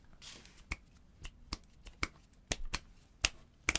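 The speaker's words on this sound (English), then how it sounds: "That's snapping." A series of sharp, crisp finger snaps, about a dozen, spaced irregularly and close up against a quiet background.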